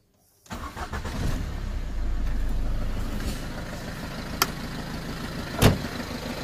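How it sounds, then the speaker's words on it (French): A car engine cranks and catches after a moment of silence, then settles into a steady idle with a couple of sharp clicks over the running motor. "On va démarrer la voiture et je vais vous montrer."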